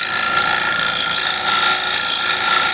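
A scraper shear-scrapes the inside of a wooden bowl spinning on a lathe, making a steady, loud, gritty rasp that runs without a break, with no voices.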